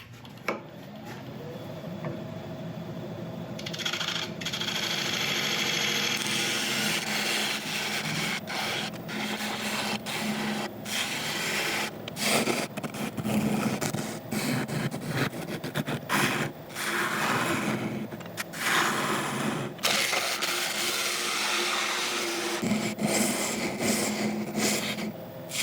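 A wood burl bowl spins on a lathe while being shaped and sanded, a continuous rough rasping and scraping with a steady machine drone underneath, close and loud, the tool pressure shifting throughout.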